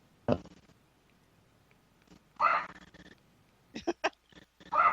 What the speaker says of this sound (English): now the dogs are all barking